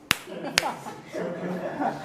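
A few sharp, demonstrative hand claps in a classroom setting at an English speaking institute, two loud distinct slaps spaced about half a second apart, followed by murmuring voices and faint chuckles.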